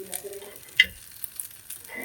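Food frying golden brown in oil in a home kitchen pan, a soft steady sizzle broken by a sharp clack of turning or stirring near the middle, with faint bursts at the edges.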